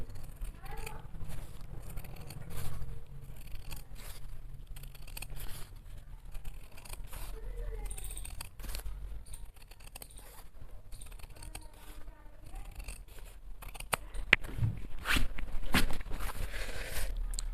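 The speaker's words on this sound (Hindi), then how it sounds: "ये जो हमने फोल्ड किया है इसको तो हम काट ही देंगे" Scissors snip through folded trouser fabric in faint, irregular clicks and rustles while a person talks quietly nearby.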